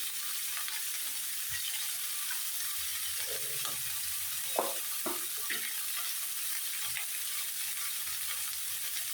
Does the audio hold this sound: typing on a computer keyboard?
no